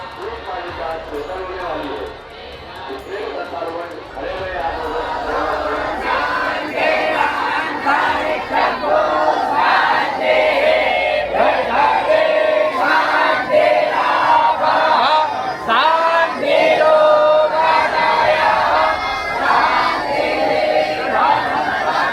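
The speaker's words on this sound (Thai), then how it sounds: "ทันทีที่เสียงสวดมันตาได้เริ่มขึ้น" Many voices chant mantras together at a ceremony in a continuous, droning rhythm, a large crowd sounding close and loud with a rising and falling cadence.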